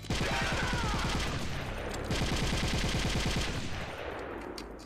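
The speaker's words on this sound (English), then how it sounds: "The gunfire, the sound of gunfire is called a report." Sustained bursts of rapid automatic gunfire from Metal Gear Solid: The Twin Snakes, loud and close, with overlapping shots and a heavy rumbling tail, no voices.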